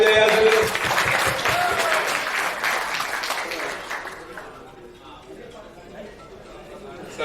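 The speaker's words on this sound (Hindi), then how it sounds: "एक बार जोरदार ताली जाए यार" Loud applause from the audience at a student felicitation programme celebrating IIT JEE results, strong at first and then fading, with chatter and voices mixed in and growing quieter toward the end.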